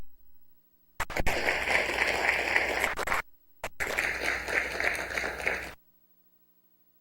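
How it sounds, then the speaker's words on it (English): An audience applauds after a talk on Buffalo and Chippewa spirituality. Two loud bursts of dense clapping each last a couple of seconds, with a brief cut between them, followed by silence. "let's give a wonderful applause"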